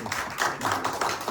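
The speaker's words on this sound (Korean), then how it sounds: "우리 환영한다고 우리 큰 축하의 박수, 감사의 박수, 기뻐 박수" A church congregation claps to welcome newcomers during a Sunday family worship service, a brief burst of rapid, dense hand clapping from many people in a room.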